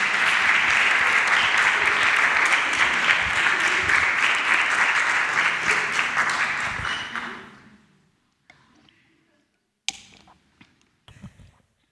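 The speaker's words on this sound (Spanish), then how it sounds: "Hace falta aplaudir" Audience applause following a school talk, a sustained dense roar of clapping for about seven seconds before trailing off into a few scattered claps and faint room noise.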